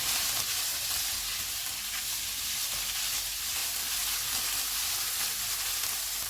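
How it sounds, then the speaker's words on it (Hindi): Minced beef frying with capsicum, onion and green chili in a pan, giving a steady close sizzle and hiss that runs unbroken throughout with no talking. "अब इसमें शिमला मिर्च डालेंगे, प्याज, सब्ज़ मिर्च, इनको 2 से 3 मिनट तक भूनेंगे।"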